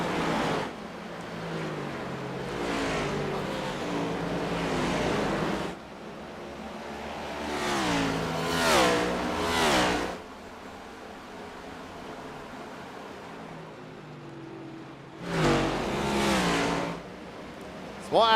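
Engine of a NASCAR Next Gen Cup race car with a five-speed gearbox in a racing video game, roaring steadily with rising revs and several pitch swoops suggesting gear shifts, loud and continuous with brief quieter gaps.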